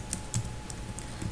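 Fingers typing on a computer keyboard while writing SQL code, a handful of light, irregular key clicks up close, no voices.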